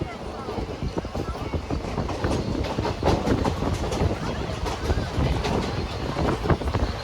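A train runs on the rails near the Tamil Nadu–Palakkad border, a loud continuous rumble with rhythmic clickety-clack beats close by, and a voice speaking over it.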